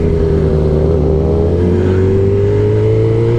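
A race-bike-style motorcycle engine runs close and loud, holding a strong steady drone whose pitch climbs gradually as it revs.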